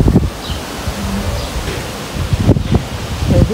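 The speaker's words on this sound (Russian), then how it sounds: "Ветер просто ужас." Strong wind gusting through a garden of roses, irises and peonies, a steady broadband roar with louder buffeting bursts at the start and again near the end, no voices.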